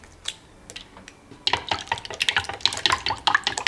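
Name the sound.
whisking three eggs together in a bowl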